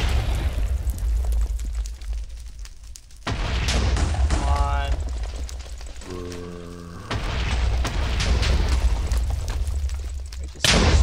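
In the video game Dissent, gunfire is aimed at enemy spawners. Repeated booming shots and mechanical impact sounds ring out over continuous in-game noise, with sustained tonal effects in between.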